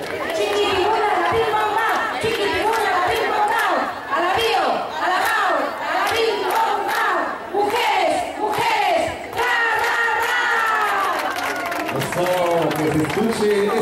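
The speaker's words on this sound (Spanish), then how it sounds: "voy a pedir una porra para ustedes, que digan mujeres, mujeres" Large crowd at a women's march in Papantla chanting rhythmically in unison, loud and near, with bursts of cheering and shouting voices rising and falling throughout.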